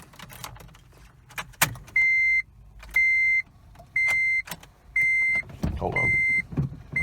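An old manual Honda Civic being started: keys jangle and clatter, then a steady electronic warning chime beeps repeatedly at a regular pace, followed by rumbling engine noise at the end.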